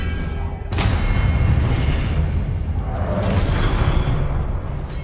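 An Expelliarmus spell is cast in the Hogwarts Legacy video game, landing as a sudden loud booming burst with a swishing whoosh. A rumbling, effects-heavy background sustains beneath it.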